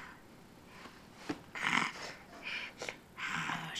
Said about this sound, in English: She's snoring a lot.